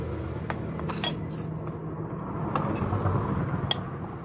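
A utensil stirring pancake batter in a bowl gives repeated light clinks and scrapes against the dish, close up over a low background murmur.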